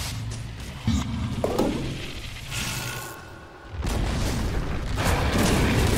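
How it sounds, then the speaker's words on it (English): A tower collapsing in the Dota 2 video game: a heavy boom, then further thuds and a rumbling crash that swells to a loud, sustained roar. "Radiant's bottom tower has fallen."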